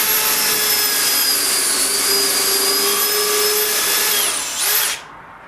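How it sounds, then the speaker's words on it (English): A power drill whines steadily at high speed for several seconds, loud and close, then winds down and stops. "Take this drill, drill a hole."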